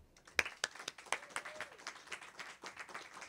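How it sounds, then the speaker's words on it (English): An audience at a National Poetry Month poetry reading breaks into applause, starting with a few sharp claps before settling into steady, moderately distant clapping from a modest crowd. "Please give a big round of applause for Miss Mackenzie Taylor."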